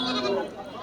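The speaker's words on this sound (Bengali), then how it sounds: "এই যে এই পাশেও আমরা অনেক ছাগল দেখতে পাচ্ছি" Goats bleating at a crowded village goat market held before Eid, with several short calls close by that blend into the murmur of people talking around them.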